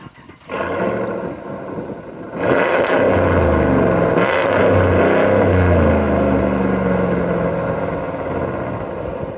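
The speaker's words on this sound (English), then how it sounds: "there's actually a cold air exhaust here too, and you can hear how it sounds right now" A deep, throaty Hemi V8 rumble through the cold air exhaust of a Ram Rebel G/T pickup rises after a quiet start and holds steady at a loud idle for several seconds, close by.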